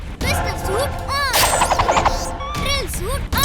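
In a cartoon, a robot boy's pistol suit fires a rapid burst of gunshots in a quick, rattling run amid loud action music and sound effects, with voices and cries around it.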